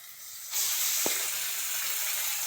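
Chicken pieces go into a hot pan of well-sautéed tomatoes for a chicken gravy, and a loud, steady sizzle bursts up and holds with a brief clink partway through.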